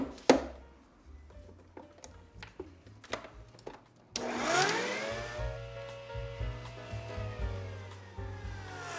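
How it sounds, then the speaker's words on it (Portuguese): Electric stand mixer beating cake batter for a Black Forest cake: a few light knocks and taps, then the motor whirs up to a loud, steady rising hum that runs on alone. "Batedeira."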